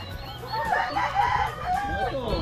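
A chicken clucks and crows in a busy stretch of repeated calls, fairly loud and close, with faint voices in the background.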